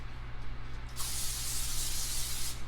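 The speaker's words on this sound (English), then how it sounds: "So I'm gonna spray my baking sheet." Cooking spray hissing from an aerosol can onto a baking sheet in a home kitchen, one continuous close spray of about a second and a half following a quiet moment.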